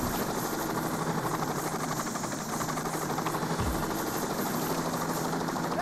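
Helicopter in the video game Payday 2, a steady loud rotor and engine drone hovering close by throughout, with a brief low thump partway through.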